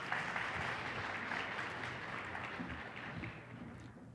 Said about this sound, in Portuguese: Uma salva de palmas para os meus assistentes aqui.